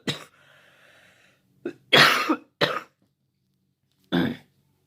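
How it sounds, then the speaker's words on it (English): Several sharp coughs in a row, close and loud, with short pauses between them and a faint hum in the background. "Sorry, I just got a cough."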